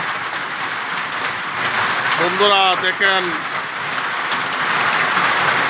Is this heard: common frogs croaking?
no